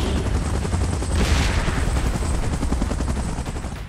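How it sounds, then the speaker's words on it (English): A helicopter in the BGMI mobile battle game beats with a loud, constant rotor chop close by, with a short swell of noise in the middle and no talking. "Chopper in position."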